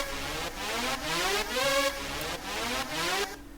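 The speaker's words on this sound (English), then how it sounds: "it sounds like a vocal shot" Rhythmic EDM synth lead vocal shot loop processed with OTT, EQ and sidechain. Bright chopped stabs pulse in a steady repeating pattern with pumping volume, playing alone and clearly.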